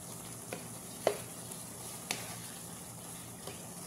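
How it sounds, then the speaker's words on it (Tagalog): Beef sauce for baked macaroni is stirred in a pan: a soft, steady sizzle and simmer with a few faint spoon clinks against the pan, quiet and close, without talking. "So, haluin lang natin."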